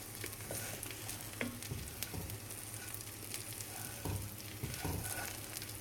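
Orzo toasting in oil in a pan gives a steady, close sizzle and crackle, with a few soft stirring scrapes and clicks, and no voices.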